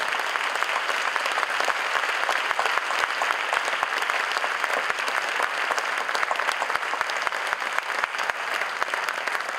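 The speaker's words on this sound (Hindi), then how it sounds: "वृषाली के लिए और उसके पेरेंट्स के लिए जोरदार तालियां हो जाए।" A show audience claps loudly and continuously, a dense, even wash of many hands sustained throughout with no talking over it.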